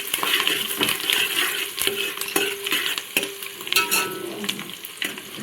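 Nutmeg, mace, star anise and cloves frying in a pan on low heat for Hyderabadi bagara rice, with a gentle sizzle under repeated scraping and clinking stirs of a metal spoon, close and without talking.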